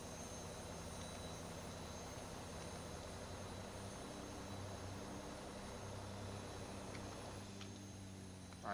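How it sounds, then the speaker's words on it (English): A Dash 8 turboprop engine runs in a flight simulator game with a steady, fairly quiet drone and hum that holds at an even level throughout, with no talk. "All right, engine starting up."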